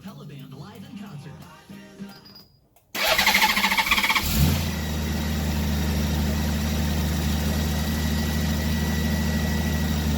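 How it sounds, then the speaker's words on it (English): A 2013 Honda F6B motorcycle engine cranks and catches after a stretch of talk, then settles into a loud, steady idle that runs on unbroken as it warms up. "I'm going to start the bike up and get it warmed up."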